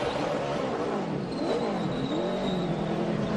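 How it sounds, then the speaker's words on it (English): A race truck engine at a 2011 UNOH 225 race, running with a broken rear axle, revs steadily and loudly for a few seconds, its pitch rising and falling while the truck fails to move, with faint track noise underneath. "that's why you hear the motor just revving up, but not going anywhere"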